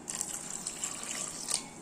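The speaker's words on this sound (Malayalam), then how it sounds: "ഒരു അര ഗ്ലാസ് വെള്ളം ഒഴിച്ചിട്ടുണ്ട്" Water poured into a pressure cooker holding pineapple pieces with chilli powder, turmeric and salt for pineapple pachadi, a steady near trickle and gush of liquid lasting a couple of seconds, with no talking.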